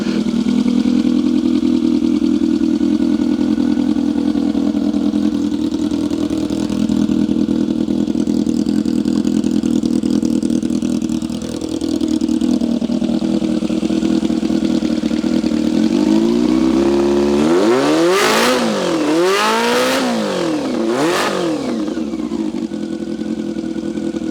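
A modified four-cylinder Honda Wave 100 motorcycle engine running close by, a loud, steady idle drone that swells into several sharp, rising and falling revs near the end, with no talking.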